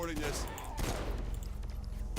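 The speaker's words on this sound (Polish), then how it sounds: "napieprzają we mnie tymi jakimiś swoimi armatami" Cannon and rocket fire in the video game Saints Row IV, a dense barrage of booming shots and blasts running steadily throughout, with someone talking over it.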